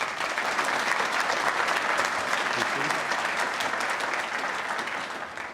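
An audience at a university ceremony for a congressman gives warm applause to visiting guests, a dense, even wash of many hands clapping throughout, tapering slightly at the end.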